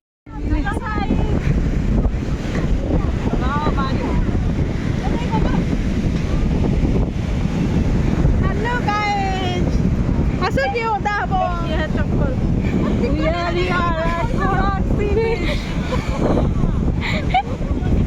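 Sea waves at Chandrabhaga beach roll under constant wind buffeting the microphone, with people talking and calling out over the steady surf.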